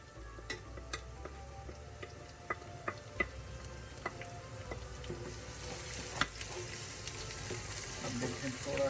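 Onions and turmeric sizzle steadily in a pan for a Dal Makhani, a dense crackling hiss with scattered sharp pops and light stirring clicks, close and continuous, rising slightly toward the end.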